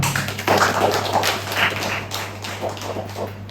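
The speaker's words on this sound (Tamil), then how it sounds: "நான்சி எல்லாரும் கை தட்டுங்க பார்க்கலாம்" A church congregation claps hands together during a Sunday service, a dense run of overlapping sharp claps that carries on steadily and fairly loud throughout, with a low electrical hum in the room underneath.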